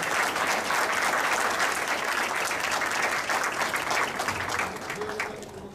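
Dense, sustained applause from an audience in a hall after a talk, many hands clapping steadily and loudly before tapering off slightly at the end.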